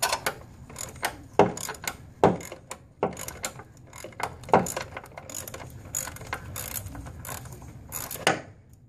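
A ratchet wrench works a 16 mm motor mount bolt loose on a car, with repeated sharp metallic clicks and ratcheting bursts in an irregular rhythm, close and clear.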